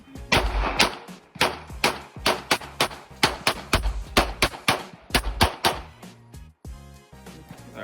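An airsoft pistol, a Canik XFX Pro with an O-Sight, fires rapid strings of sharp, loud cracks with metallic clangs, likely shots hitting steel targets. The shots come in quick bursts with short pauses in between, and no one talks.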